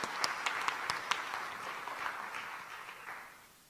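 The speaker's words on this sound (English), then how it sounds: "Let's give them all another round of applause." An audience applauds panelists at an international symposium, a fairly quiet scattered round of clapping with sharp individual claps at the start that thins and fades out over a few seconds.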